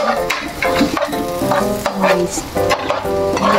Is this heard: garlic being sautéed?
yes